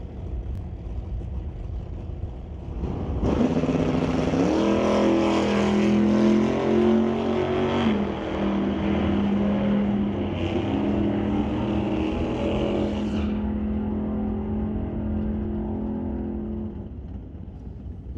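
Drag race cars, including a Chevrolet Chevy 2, roar down the track in a sustained loud engine drone that rises in pitch as they accelerate, heard from a fixed spot beside the strip.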